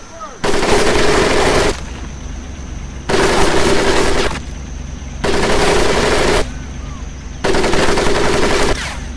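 Sustained machine gun fire in the World War II shooter Medal of Honor Pacific Assault, coming in four long, loud bursts of a second or more each, with quieter gaps between them.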